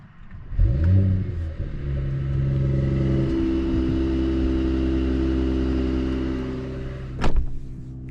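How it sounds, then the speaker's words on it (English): A 2023 Mercedes E53 AMG sedan fires up with its louder emotion-start exhaust, a sharp flare of revs settling into a loud, steady idle rumble, then a brief click near the end. "If you hold the pedal shifter down or up, you will get the louder exhaust sound,"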